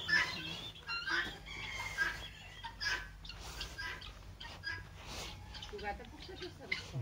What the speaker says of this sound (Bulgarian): И кокошките.